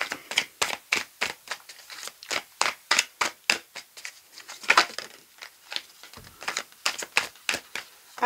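Tarot cards are cut and laid out for a nine-card spread: a steady run of crisp, close snaps and flicks, evenly spaced, with no voice over them.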